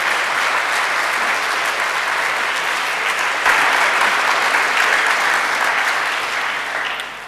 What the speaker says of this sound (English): that drew some applause